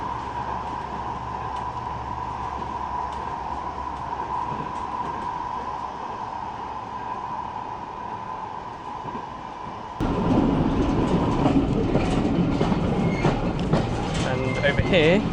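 A Metrolink tram running on rails near Bury hums with a steady motor tone and rolling rumble, then grows suddenly louder and harsher partway through with clattering wheel noise.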